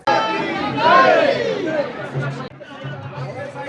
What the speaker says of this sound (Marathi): आज गुरुपौर्णिमेमुळे पलीकडे भरपूर गर्दी झालेली आहे.